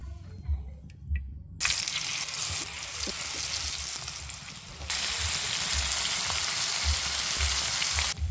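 Prawns fry in soybean oil with a steady, close sizzling hiss. It swells louder partway through, and faint low knocks from the pan sit beneath it.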